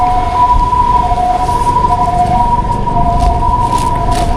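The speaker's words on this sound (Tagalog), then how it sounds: "May dumaan na ambulansya." An ambulance siren passing along a street, its loud wailing tones holding steady and close for several seconds over a low rumble of traffic, with no talking.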